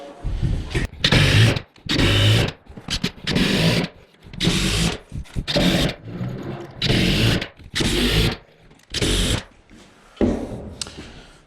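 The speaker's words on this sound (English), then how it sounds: "we'll want to use screws to screw it on so it's tight" A power driver sends screws into a wooden backing board for a box mantel in roughly eight short whirring bursts separated by brief pauses, loud and close with no talking.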